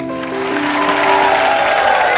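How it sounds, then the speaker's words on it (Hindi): Studio audience on a comedy talk show breaks into loud applause and cheering for celebrity guests, a dense sustained wash of clapping under music tones. "एक बार प्रभु सर, तमन्ना और सोनू बाजी के लिए जोरदार तालियां।"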